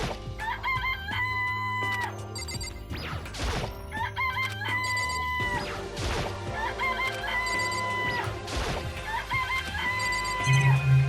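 Chickens in a video game cluck and crow repeatedly over a looping, melodic game soundtrack, the rooster calls rising in several bursts across the clip and staying fairly loud throughout.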